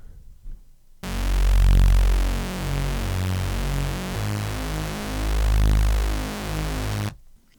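A synth bass from a Hercules V3 synth plays a deep, pulsing line of repeated notes, swelling and fading, alone for about six seconds before cutting off.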